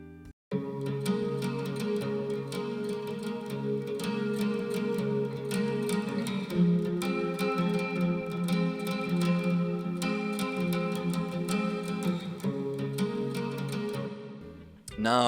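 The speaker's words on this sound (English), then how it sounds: "So I did some stereo acoustic guitars, which sound like this." Layered stereo acoustic guitars recorded for a lofi shoegaze song, strummed continuously with a washy, effected sheen, loud and steady with no voice over them.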